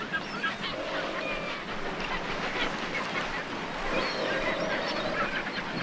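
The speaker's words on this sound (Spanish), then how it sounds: "la presencia de un cardumen de sardinas agita las aguas en un festín para gaviotas, pingüinos, lobos y otras especies" Seabirds such as gulls and penguins feeding on a sardine shoal near the water's surface, with repeated honking and squawking calls over a constant wash of water and wind.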